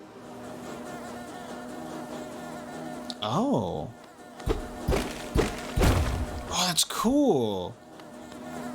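Buzzing bees in the video game Hollow Knight, with a wavering drone that swells and dips alongside dull thuds, while a player makes a couple of brief remarks.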